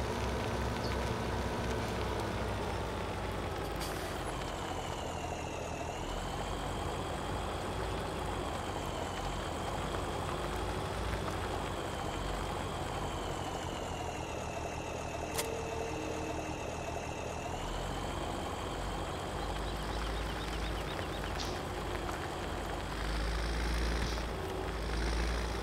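Case CVX tractor engine idling in a farming video game, a steady low rumbling drone that holds evenly for the whole stretch with slight pitch shifts, no talking.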